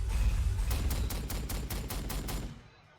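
Rapid gunfire in the strategy game Warhammer 40,000: Sanctus Reach, a sustained rumbling burst with about eight distinct sharp cracks in steady rhythm, then cutting off into near silence.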